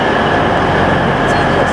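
A Bradford-line train toward Mirfield gives a steady, loud rumble of a rail carriage in motion, with no distinct clicks or voices.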